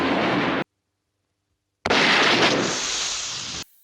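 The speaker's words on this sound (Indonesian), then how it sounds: "And boom, dengan sekali tembakan langsung mengenai bola mata Johnny" Gunfire in a film scene, loud broadband blasts broken by a sudden silence, then a second long roaring report.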